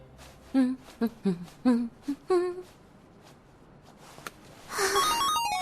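A telephone rings in an animated idol series: a quick run of short, bright melodic chime notes, followed a couple of seconds later by a sparkling, shimmering burst of high tones.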